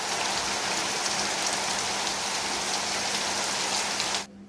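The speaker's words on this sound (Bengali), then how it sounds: "তো বাইরে খুব বৃষ্টি হচ্ছে" Heavy rain pours steadily outside, a dense, even hiss of drops on surfaces that holds constant before cutting off abruptly near the end.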